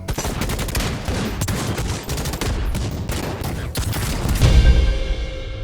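Gunfire rips through combat in the Necromunda: Hired Gun shooter, loud irregular bursts and single cracks overlapping in a chaotic firefight, with heavier booming impacts near the end.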